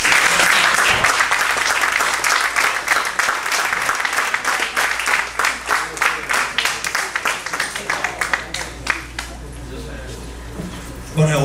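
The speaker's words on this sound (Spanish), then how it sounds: "vamos a recibir con un fuerte aplauso a ese gran, pero gran artista que es Boris Larramendi" A fundraiser audience breaks into loud, sustained applause to welcome the artist Boris Larramendi on stage. The dense clapping runs steadily, then thins into scattered claps near the end, with a voice briefly heard underneath.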